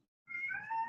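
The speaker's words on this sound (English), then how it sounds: "If you guys hear my cats" House cat meowing once, a single close, clear drawn-out meow that rises out of silence and holds for about half a second, alone without talk.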